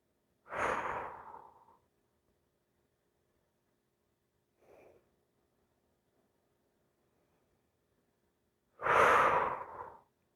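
Slow, deep breaths during a yoga stretch: a long exhale, a faint small breath, then another long exhale, close and clear in a quiet room.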